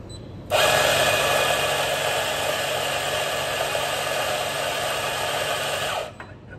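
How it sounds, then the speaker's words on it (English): Coffee grinder at a café coffee station running in one steady, loud, continuous whir, starting abruptly and cutting off after about five and a half seconds, with no talk over it. "so we need to adjust the grinder"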